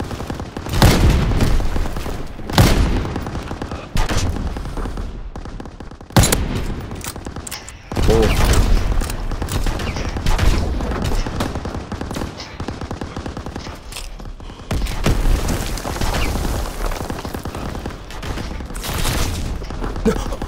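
Heavy, nearly continuous gunfire in Call of Duty WWII, loud overlapping shots and bursts with a few sharp booms, forming a dense battle din throughout.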